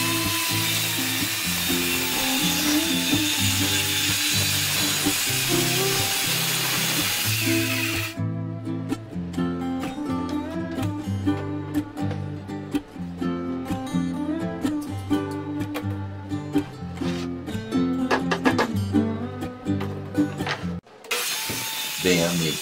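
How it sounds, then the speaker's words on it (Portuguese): A power saw cuts wooden drawer fronts for a workshop bench with drawers, giving a loud, continuous whining roar with strong tonal harmonics that shift in pitch as the blade bites, then briefly drops away near the end. "nesse ponto eu estou cortando os frontais"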